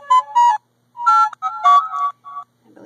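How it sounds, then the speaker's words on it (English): A short electronic phone alert plays near and clear in a quiet room: a few bright tonal chirps in quick bursts, a pause, then a longer melodic run of steady tones, ending on a faint soft rustle. "believe that was a text message."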